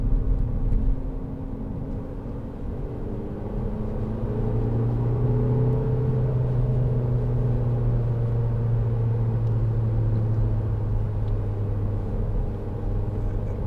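Steady engine drone and road rumble from inside a 2010 SEAT Leon 2.0 TD FR diesel hatchback cruising in third gear, with a low hum that rises slightly partway through and holds evenly, with no talking.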